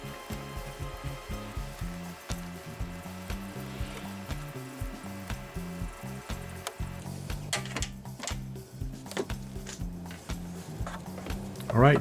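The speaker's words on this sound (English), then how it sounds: "slide your hose clamp up, and tighten the hose clamp up." Hose clamp being tightened on a coolant overflow tank hose of a Land Rover Discovery 1, heard as steady rapid ratcheting clicks in a rhythmic pattern, close and continuous, briefly pausing before a final louder scrape.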